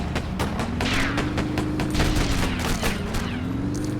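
Gunfire from bikes in a Joker video game: dense rapid bursts of shots over a loud, continuous engine drone that rises and falls, with no voices.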